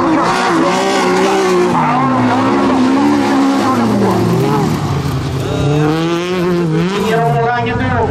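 An Opel folkrace car accelerates hard on a race track, its engine loud and close, rising and falling in pitch against a dense roar of other racing cars, with a commentator talking over it.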